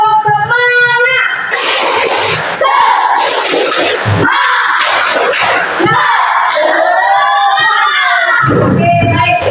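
A classroom of students claps and shouts the tepuk semangat rhythmic clapping chant in unison, loud and close, with children's voices chanting over the patterned claps.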